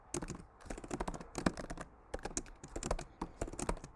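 Fingers type on a computer keyboard during coding, a quiet, close run of irregular key clicks in quick bursts with short pauses between them.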